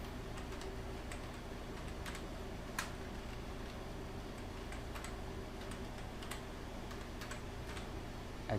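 Soft, sparse keystrokes on a computer keyboard as a company name is entered, faint clicks spread over a steady low background hum, with no voices.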